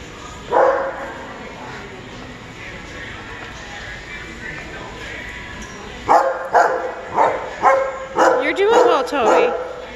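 Several dogs at a PetSmart pet store bark in a quick run of loud, close yips and barks. Before that a person talks, and one bark comes early.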